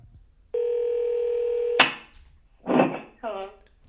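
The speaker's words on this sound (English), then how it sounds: "Hey Google, call Emma." A Google Home Mini smart speaker places a phone call, sounding a steady electronic dial tone for over a second, followed by a click and short bursts of ringing or voice-like tones.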